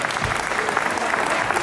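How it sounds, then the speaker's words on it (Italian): A concert crowd at a 2017 show claps for the singer's band, a dense, steady wash of applause close and loud for a short stretch. "voglio fare un altro applauso ai miei ragazzuoli"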